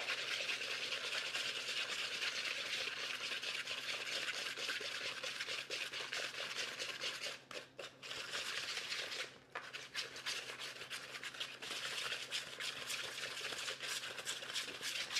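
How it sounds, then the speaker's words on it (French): A whisk creams biscuit batter in a bowl, a steady, continuous scraping rub that keeps going throughout, fairly close, with only two brief pauses and no talking. "pour crémer, c'est toujours plus facile d'y aller avec un fouet"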